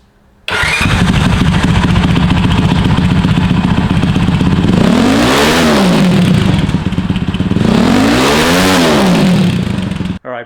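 Cold Honda CT70 motorcycle with an aftermarket exhaust starts up loud and close, settles into idle, then gets two quick throttle blips that rise and fall in pitch.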